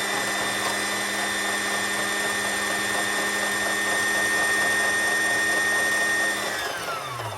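A sewing machine motor spins fast while winding a bobbin, a steady high-pitched whine held for several seconds before it winds down and slows at the end.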